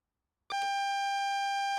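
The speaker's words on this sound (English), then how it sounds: "That alarm is the AWS self-test system." A sustained electronic alarm tone from the AWS self-test system in a GWR train cab in the video game Train Sim World, starting abruptly and holding a steady, loud, pulsing pitch with no voices.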